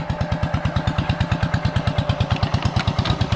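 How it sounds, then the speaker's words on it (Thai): A motorcycle engine just started and running at a fast, even idle, its rapid regular putter steady and close for a few seconds with no voices. "เดี๋ยว จะติดเครื่องนะครับ"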